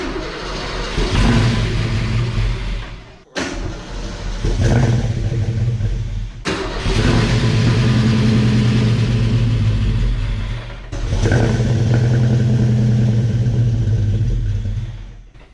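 A freshly installed 306 HCI V8 in a Fox Body Mustang convertible cranks and fires for the first time, rumbling loudly in several revving bursts that cut out and restart, heard up close.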